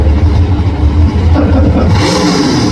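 A super modified drag racing car at the NHRA Gatornationals in Gainesville blasts past at very close range, a loud, raw engine roar with a quick change in pitch and tone as it shifts up through the gears.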